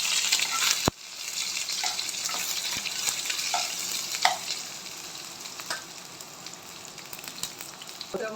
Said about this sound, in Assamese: ইয়াতে মই তেলতে শুকান জলকীয়া দিলোঁ, তাৰপৰা কেইটামান গোটা জিৰা দিছোঁ, আৰু অলপ পিঁয়াজ দিছোঁ।